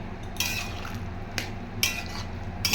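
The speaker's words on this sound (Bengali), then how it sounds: "ভালো করে এটা নেড়ে দিয়ে দু তিন মিনিটের মতো ফুটিয়ে নেবে" A mustard and radhuni paste cooks in a pot, a dense close simmering hiss broken by a few sharp scrapes and clinks of a spoon stirring against the vessel.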